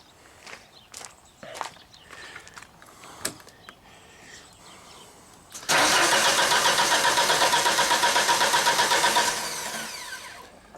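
A Genie lift's engine fires up after some footsteps and handling clatter, then runs at a loud, steady rough idle for several seconds before dropping to a lower, quieter running level; there is no talk over it.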